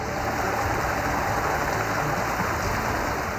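Rainwater flooding the streets and lanes of a city neighborhood, a continuous dense hiss of rushing water and rain with a faint low engine-like rumble underneath, steady and unbroken.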